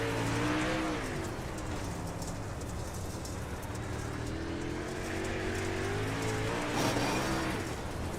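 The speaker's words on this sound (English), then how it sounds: "You can hear how easy they are on the throttle." Several World of Outlaws dirt late model race cars at I-55 drone steadily at moderate distance, engine notes rising and falling gently under constant background noise, with no talk.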